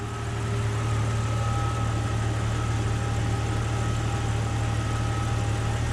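A GSPSCN on-board tire inflation kit air compressor runs steadily, a constant motor drone with a low hum and hiss, airing up four tires; no talking over it.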